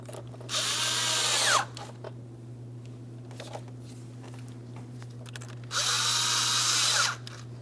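Two bursts of a power tool tightening hose clamps on a 2005-2010 Chrysler 300 with a 5.7L V8 during coolant temperature sensor work, each whirring for about a second with a rising then falling pitch, separated by quiet handling sounds over a steady hum.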